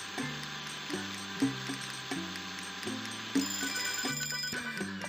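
A telephone rings in Papa's Freezeria Deluxe, a repeating electronic bell-like tone pulsing in a steady rhythm over light game music, clear and fairly loud with no voices.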